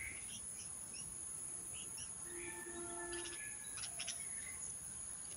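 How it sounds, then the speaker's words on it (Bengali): Birds sing and chirp in a home garden with brief, scattered calls and a few sustained whistled notes, faint and distant, over a continuous insect or cricket drone with no talking. "কি সুন্দর পাখি ডাকছে, আপনারা শুনছেন তো?"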